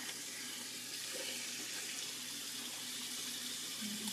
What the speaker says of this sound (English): so just going to wash this off my skin